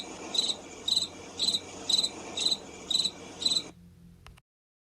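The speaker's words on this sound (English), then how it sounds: "At night, a cricket comes out from under the dandelion's leaves. It fills the warm summer evening with music." A cricket chirps on a warm summer night in a yard, seven evenly spaced bright pulsing chirps, close and clear, then stopping before a short quiet tail.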